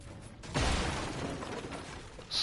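A player in the Fortnite video game chops a tree for materials: one sharp, loud impact followed by a rattling, crunching decay over steady background game sounds.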